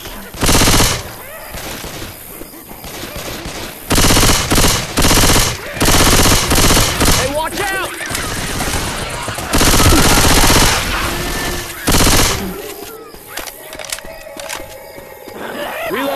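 Gunfire in the zombie shooter game Left 4 Dead 2: repeated loud bursts of rapid automatic shots separated by short pauses, with game voices and shouting in between.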